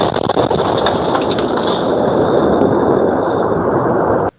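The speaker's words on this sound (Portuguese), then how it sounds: "A câmera de segurança de uma empresa flagrou o momento exato da explosão." A security camera captures an explosion at a cooperative in Palotina. A loud, roaring, muffled rumble sets in at once and holds steady for about four seconds before cutting off abruptly, with no voices.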